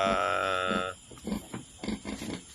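A farrowing sow gives a long, loud harmonic squeal, then a run of lower rhythmic grunts close by, with no talk over it.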